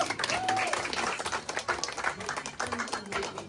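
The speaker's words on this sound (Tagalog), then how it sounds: "isa muna ang malakas na palakpak." An audience at a house blessing and turnover gives a burst of loud, dense applause, with a voice speaking over part of the clapping.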